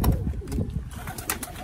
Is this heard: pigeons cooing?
yes